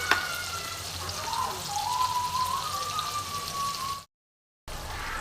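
Cumin and coriander powders sizzle steadily as they are sautéed in a pan for a cabbage and chhana kofta curry, with faint stirring and a brief high whine over the frying. The sound cuts out briefly near the end.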